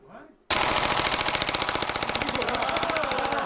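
Pamela Gorman, a congressional candidate in Arizona, firing an automatic weapon, a loud sustained burst of rapid machine-gun shots in even rhythm lasting about three seconds after a brief moment of quieter sound.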